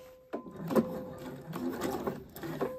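A sewing machine runs test seams in thick Gütermann denim thread, stitching in short bursts that start, pause and restart, with a steady mechanical whir at close range.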